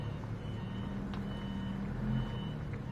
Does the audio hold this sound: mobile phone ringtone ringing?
no